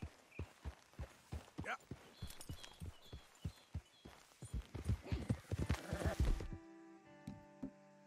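A horse walks in the video game Red Dead Redemption 2, its hooves clip-clopping in a steady, close rhythm that quickens and crowds together before stopping, after which a brief musical tone is heard.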